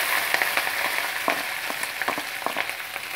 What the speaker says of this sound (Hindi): जीरा अच्छे से भून गया, मैं इसमें प्याज हरी मिर्च डाल दूंगी